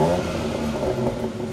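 BMW X3 M Competition, a 510 PS compact SUV from 2022 with a petrol particulate filter, revving its engine in a loud, close, full-throated roar that holds steady for a brief moment.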